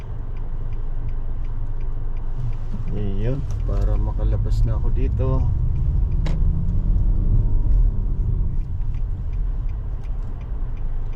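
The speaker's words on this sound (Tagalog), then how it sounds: "Padaanin ko muna tong pulang kotse na to." A red car drives past on a highway while the listener waits in a vehicle, a steady low engine and road rumble swelling and fading over several seconds beneath someone talking.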